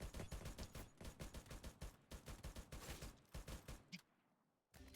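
Rapid automatic gunfire from the Free Fire battle-royale game in a Clash Squad match, loud, dense bursts of shots in a steady rhythm for about four seconds, a short lull, then firing resumes.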